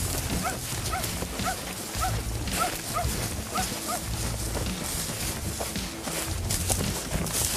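Hunting dogs on a safari hunt bark in a rapid, repeated series of yips and barks, fairly close and steady over several seconds, with faint rustling footsteps underneath.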